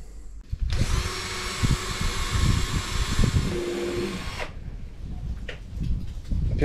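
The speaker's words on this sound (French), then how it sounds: "Perçage pour fixation du module télécommande de l'Human Bird." A power drill bores mounting holes for a remote-control module into a waterproof case for a kayak fish-finder, its steady high whine running for about four seconds before stopping, followed by handling noises.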